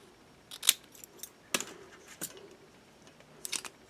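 Rim tape for a tubeless clincher bicycle rim snipped with scissors: a few sharp, brief snips and clicks close up, spaced apart in a quiet room.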